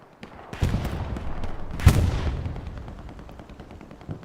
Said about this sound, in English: Strafing run comes in.